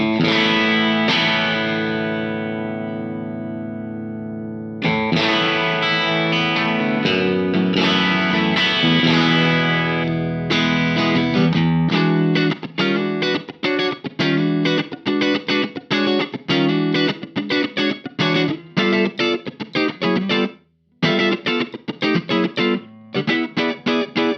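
An overdriven electric guitar through an Engl Retro Tube 100 amp with the mids cranked plays sustained chords, then choppy, rapid strummed stabs, loud and saturated with tube amp grit and a touch of reverb.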